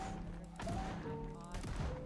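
Shotgun blasts in Project Zomboid as a zombie horde closes in at a fuel pump: a couple of heavy booming shots with a thudding tail, close and loud over game music.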